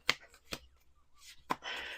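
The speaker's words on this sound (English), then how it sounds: "When I hit 4 to 6 cards on the table, I do 2 more shuffles" Tarot cards being shuffled on a table: three sharp riffling bursts spaced apart, then a longer rustling shuffle at the end, close and fairly quiet with no talk.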